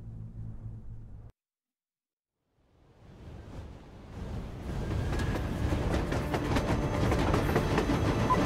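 In the Metro Exodus game, a railway handcar rolls along metro tracks. After a short burst and a moment of silence, a rumbling rattle builds into a loud, continuous clatter of wheels on rails.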